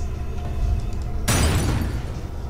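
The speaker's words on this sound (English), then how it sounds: "I blew up the door" A door blasted open with an explosive in the horror video game Penumbra Requiem: a sudden loud, broadband boom with a shattering burst, rumbling on over low background noise.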